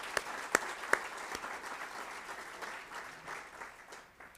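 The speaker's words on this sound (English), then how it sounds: "a big round of applause" A crowd at a town event applauds steadily, with a few sharp, louder claps near the start before the clapping settles into an even, sustained patter.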